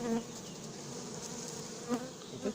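Honeybees from a swarm being housed in a hive make a steady, dense buzzing drone close by, with individual bees whining past now and then, no talk over it.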